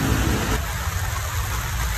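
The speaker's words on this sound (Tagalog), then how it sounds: "Kasagsagan ng bagyo." Heavy rain pours down during a typhoon in Quezon City, a steady dense hiss with a low rumble beneath, close and constant with no one talking.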